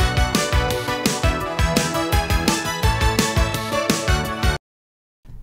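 Original recording of a song, 1980s synth-pop with punchy drums, bass and bright synth lead, playing loud and steady for about four and a half seconds before cutting to silence and briefly resuming.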